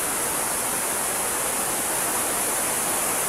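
A stream flows with a constant, even rush of water that fills the scene, with no voices.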